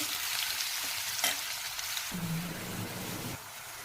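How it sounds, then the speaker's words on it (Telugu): Chopped onions frying in a pan, a steady soft sizzle with faint stirring, heard alone with no talk. "ఇప్పుడు ఇదే ప్యాన్లో మనం తరిగి పెట్టుకున్న ఉల్లిపాయలు కూడా వేసి వేయించుకుంటున్నాను"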